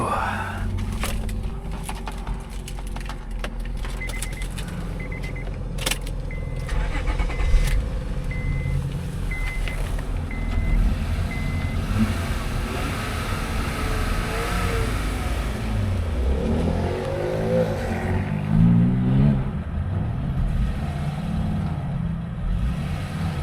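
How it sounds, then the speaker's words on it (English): A cheap Honda car engine turns over and settles into a steady idle, a continuous low rumble running close and fairly loud for the whole stretch with a few brief rises in revs. "Motor sounds good."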